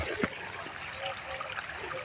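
Water flows from the Dhotivala dam as a faint, continuous trickling rush, soft and fairly distant with no other sounds standing out.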